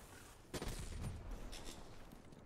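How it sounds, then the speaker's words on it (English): Gunfire in the video game Call of Duty Black Ops 3, a quick faint burst of rapid shots followed by a fading rumble; no speech. "I just shot that just to shoot it."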